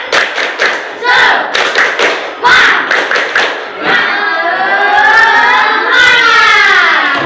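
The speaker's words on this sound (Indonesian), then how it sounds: "Tepuk semangat." Schoolchildren in a grade 6 class perform a rhythmic spirit clap, a loud series of sharp, patterned group claps and thumps in bursts, followed by the class chanting together in a sustained shout.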